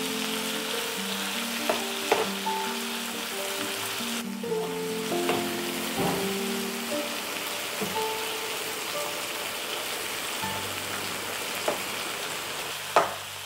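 Tomatoes and onions frying in a pan for dal fry while being stirred: a steady sizzle runs throughout, broken by repeated scraping and knocking of the spoon against the pan, close and fairly loud, with no talk.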